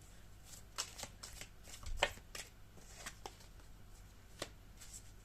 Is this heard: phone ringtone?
no